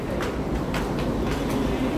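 A Singapore MRT train near the Riverfront, heard as a steady loud rumble of rail transport with faint periodic rattles across the whole span, no talk over it.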